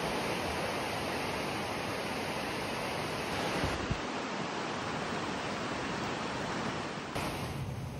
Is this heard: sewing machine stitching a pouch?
no